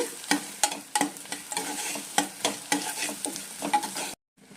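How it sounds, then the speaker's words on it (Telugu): Onions frying in a pan until brown for an egg fry, a soft continuous sizzle with repeated close scraping strokes of a spatula stirring them at a steady rhythm, ending abruptly in silence. "ఈ ఉల్లిపాయలు వచ్చేసి బ్రౌన్ కలర్ వచ్చేంత వరకు వేయించుకోండి."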